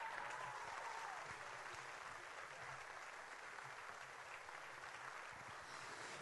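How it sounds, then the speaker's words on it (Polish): Sustained audience applause at an awards ceremony, a dense, steady wash of clapping that holds at an even level throughout with no talk over it. "A publiczność szaleje, brawa nie milkną, aplauz."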